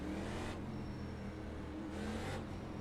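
A NASCAR Camaro in iRacing at Watkins Glen pulls away from a first-gear start, its engine a steady loud drone with rising tone, alone without talk.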